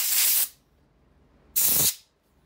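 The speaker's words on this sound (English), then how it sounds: "Get the air on it and give it a quick blow. Get all the crud off the outside." Two short, loud blasts of compressed air hiss over a Honda HR194 lawn mower carburetor part to clear away crud, each lasting under half a second with a pause between them.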